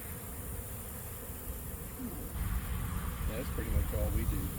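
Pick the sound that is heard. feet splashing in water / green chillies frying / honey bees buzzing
honey bees buzzing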